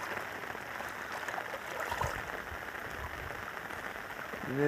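Heavy rain pours down in a steady, dense roar of drops hitting surfaces, close and continuous throughout.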